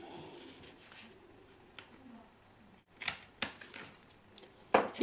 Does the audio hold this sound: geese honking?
no